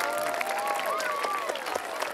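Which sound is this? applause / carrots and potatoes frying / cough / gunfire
applause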